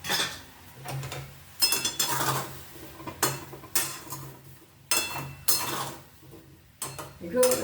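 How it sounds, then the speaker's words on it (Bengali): A spoon scrapes and stirs an amla candy mixture in a metal pan, giving several separate bursts of scraping and clinking with quiet gaps between them, close and fairly loud. "একটু উপর নিচ করে দিলাম"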